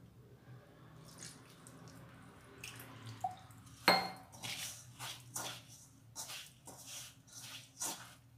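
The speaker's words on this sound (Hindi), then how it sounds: "अब इसमें थोड़ा सा पानी डालेंगे," A little water is poured into flour for dough, making faint splashing and wet squishy sounds near a kitchen sink, with quiet handling noise around it.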